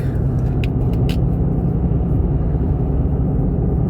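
A car driving with a steady, loud low rumble of engine and road noise that fills the whole stretch, with a few brief higher clicks near the start.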